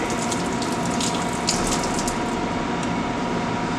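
Water hisses and gushes steadily through a backflow test gauge on a Watts 919QT reduced pressure backflow assembly, a continuous close rushing with no talking.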